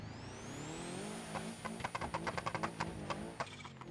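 A racing car engine in the video game BeamNG.drive winds up to a high steady whine, then a burst of rapid rattling pops and crackles as it shifts and revs.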